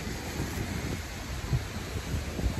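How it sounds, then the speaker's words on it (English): Strong hurricane wind near Miami Beach roars steadily, buffeting the microphone with low rumbling gusts throughout, with no voices. "It's just crazy windy."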